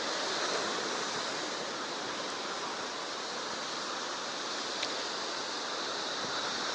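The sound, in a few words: rough sea waves and surf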